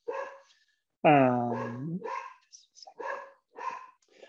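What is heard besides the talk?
dog barking at mail delivery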